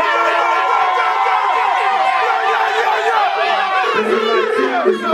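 Live crowd at a hip-hop concert cheers, whoops and shouts continuously for several seconds, a dense roar of many voices with scattered high yells rising over the din.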